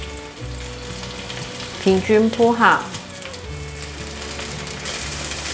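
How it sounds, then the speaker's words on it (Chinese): Bean curd skin frying in a little hot oil in a pan for a vegan taro and edamame dish, a steady close sizzle running throughout with a brief burst of louder clatter and a short voice in the middle. "锅内放入少许油，要来煎豆包"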